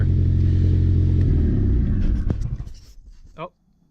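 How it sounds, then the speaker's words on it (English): A car's engine rumbles loudly, then cuts off and fades, and a short metallic rattle from an exhaust cutout striking the underside follows near the end before silence. "That was a rattle right at the end of that."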